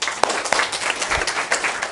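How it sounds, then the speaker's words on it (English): Brief burst of audience clapping at a group sharing session, a short mix of scattered claps from a small crowd. "Can we give you a round of applause, everybody?"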